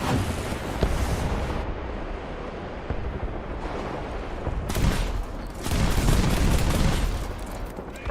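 An Lvkv 9040C self-propelled anti-aircraft gun fires proximity shells in War Thunder: continuous rapid gunfire with rushing, wind-like noise swelling louder in the second half.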